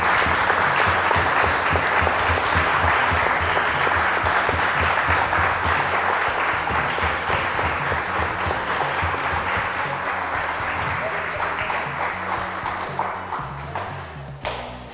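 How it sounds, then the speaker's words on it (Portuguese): A certificate ceremony audience applauds the graduating students in loud, sustained, dense clapping that fills the room, with a little background music under it, tapering slightly toward the end. "E eu quero que vocês todos deem uma salva de palmas para os alunos, para todos, para os formandos e não formandos."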